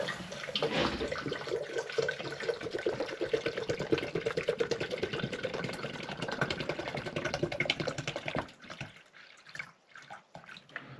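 Five cups of water pour into a Vitamix blender jar in a steady, close splashing stream for about eight seconds before trailing off into a few drips.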